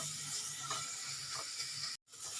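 Grated carrots sauté in ghee over a low flame for a carrot custard kheer, giving a soft, steady sizzle with a couple of light stirring scrapes and a brief drop-out near the end.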